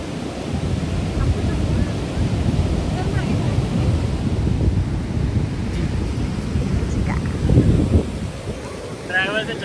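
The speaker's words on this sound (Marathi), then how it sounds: "ते बघ लाट." Sea waves surge and crash on Alibaug beach in rainy weather under heavy wind buffeting the microphone, a dense, roaring low rumble that swells near the end, with people talking faintly.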